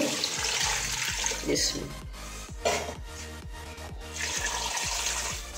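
Water pours steadily into a large steel pot for a beef paya recipe, a continuous splashing rush with close ticking knocks, as a person speaks over it.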